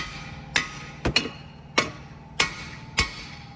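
Hammer blows against a Mini Cooper S drive shaft during CV gaiter replacement: five sharp metallic taps at irregular intervals, one doubled into a quick pair, close and fairly loud with a faint hum underneath.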